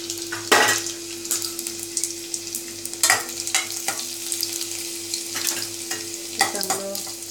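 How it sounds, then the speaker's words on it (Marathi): Finely chopped garlic and ginger hit hot oil already crackling with mustard seeds and cumin for a shev tomato bhaji, giving a close, steady sizzle broken by sharp spoon-stirring scrapes and clinks, with no talk. "जिरं फुललं की त्यामध्ये आपण हा लसूण आणि आलं जे बारीक अगदी चिरून घेतलं आहे ते घालूया."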